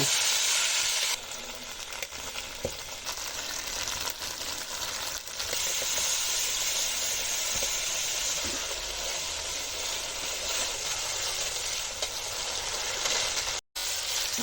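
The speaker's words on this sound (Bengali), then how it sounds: "এবার ওই তেলে একটু সাদা জিরে একটু কালো জিরে ফোড়ন দেব দিয়ে মশলাটাকে দিয়ে দেব" Spice paste with cumin and nigella seeds fries in hot oil in a pan. It gives a steady, soft sizzle and hiss with a few faint clicks from stirring, and no talk.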